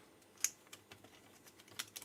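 Computer keyboard handled during setup after its ribbon cables are connected, giving a few scattered clicks and knocks, one sharper tap standing out, all faint and close with no voices.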